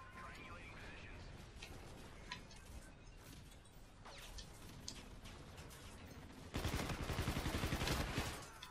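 UMP45 submachine gun firing in a Call of Duty match, with scattered shots and game effects under excited talk, then a loud, sustained burst of rapid fire near the end.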